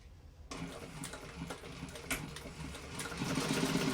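Hand-cranked sewing machine stitching a backpack, starting after a brief quiet moment into a rapid, rhythmic mechanical clatter of needle strokes that picks up pace toward the end, close and clear without talking.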